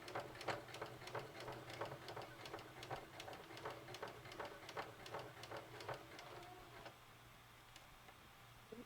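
Sewing machine back stitching a tote bag, a rapid run of sharp mechanical ticks close by for about seven seconds, then stopping to near quiet with a few stray clicks.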